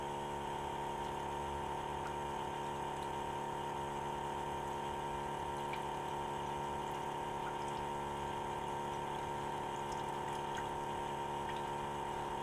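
Water runs steadily from a tap to rinse out a container during madder pigment making, a continuous flow under a constant humming tone, with no talking.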